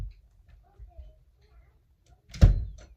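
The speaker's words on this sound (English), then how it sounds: "I'll close the door." An interior door swings shut with a single dull thump, close by and fairly loud, after a few faint household rustles.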